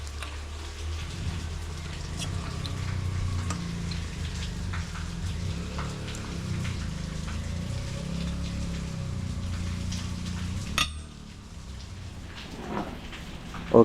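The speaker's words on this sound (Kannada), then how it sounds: "ಈಚೆ ನಮ್ಮಾಚೆ ತುಂಬ ಮಳೆ ಬರ್ತಾ ಉಂಟು." Heavy monsoon rain falls steadily outdoors with a dense, continuous patter and a low rumbling undertone, easing suddenly near the end, with no voices.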